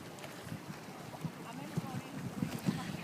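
Lakeshore ambience at Lake Pontchartrain, Louisiana: wind rumbles against the microphone while small waves lap and slosh in soft irregular pulses, with a low passing truck blending into the background wash.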